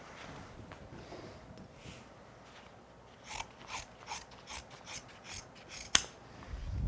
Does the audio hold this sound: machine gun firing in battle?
no